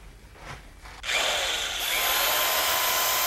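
A Craftsman cordless drill spins up sharply after a quiet second of low rumble. It then holds a loud, steady, high whine at close range with slight pitch shifts and no voices.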